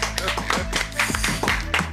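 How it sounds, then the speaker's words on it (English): In a studio, clapping welcomes a guest DJ: a run of sharp, fairly regular claps that stand out over overlapping talk. "Round of applause."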